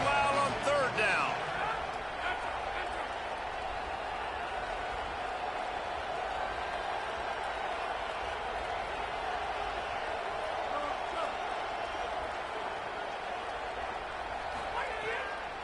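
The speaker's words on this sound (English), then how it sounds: "this crowd bearing down and getting loud on 3rd down" A football stadium crowd swells into a steady, loud roar on third down. The noise stays dense and sustained throughout, and a commentator talks over it.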